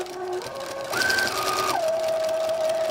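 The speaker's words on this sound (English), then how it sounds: "Okay, so now I'm going to use this edge and sew it." A sewing machine stitches along the edge of a potholder with green thread, humming up close in a steady whir that rises in pitch as it speeds up, then settles to a lower, even drone.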